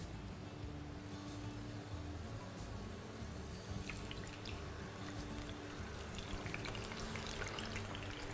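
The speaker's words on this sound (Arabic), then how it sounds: "نقلي بوتيته." Potatoes frying in oil in a frying pan, a quiet continuous crackle and sizzle with scattered pops and spatters throughout, no voices.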